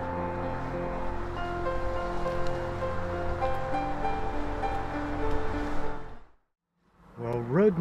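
A small seasonal creek beside a hiking trail gives a steady, soft rush of flowing water that cuts off abruptly near the end, followed by a brief spoken voice.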